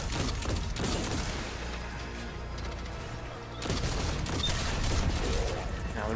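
A weapon reload in Destiny 2, during a Hunter Arcstrider solo Nightfall: mechanical clacks and clicks over continuous dense gunfire and blasts, loud and busy throughout.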